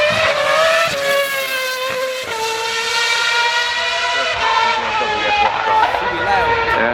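A 2007 BMW Sauber Formula One car screams past at the Goodwood Festival of Speed, its high-pitched engine note rising and shifting through gears while a commentator talks over it.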